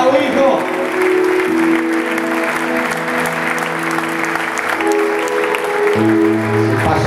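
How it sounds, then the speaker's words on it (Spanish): Church congregation applauding loudly and steadily for several seconds, a dense clapping crowd with a voice speaking over it. "Denle un aplauso nuevamente a estos valientes del Señor"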